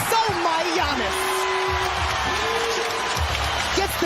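A basketball arena crowd at an NBA game, Milwaukee Bucks hosting the Indiana Pacers at Fiserv Forum, cheering and whooping in a dense, sustained roar beneath an announcer's voice.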